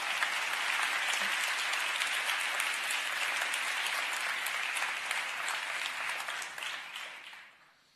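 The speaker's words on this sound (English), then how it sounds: "please give them applause" Audience at a conference keynote applauding the event's partners and sponsors: dense, sustained clapping from a large crowd that holds steady for several seconds, then fades out.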